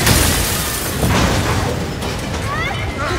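A loud explosion in a police TV drama, heard as a sustained roaring, rumbling blast that fills the whole short stretch, with no voices over it.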